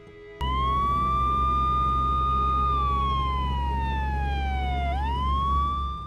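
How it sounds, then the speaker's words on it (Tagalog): An emergency siren wails loud and close after a short lead-in, holding a steady tone before sliding down and sweeping back up, over a low rumble of traffic. "ipinasundo na namin sa ambulansya si Baby Ella para madala sa ospital."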